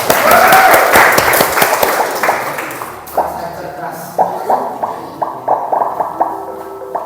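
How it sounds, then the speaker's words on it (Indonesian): A class of students applauds in a classroom, a loud burst of clapping that thins into scattered individual claps as a teacher's voice talks over it. "Tepuk tangan dulu."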